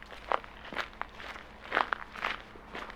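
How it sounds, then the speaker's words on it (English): Footstep sound effects for a horror video game, a series of about eight distinct steps at an uneven walking pace, fairly close and moderately loud, with no talking. "So we want our footsteps to be attached to this audio stream player."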